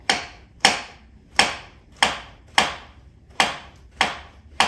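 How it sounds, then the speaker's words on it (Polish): Sharp knife chopping mushrooms on a cutting board, about eight evenly spaced strikes at a steady, unhurried rhythm, close and crisp with no talking. "Zostało mi tylko jeszcze dwa grzybki do pokrojenia."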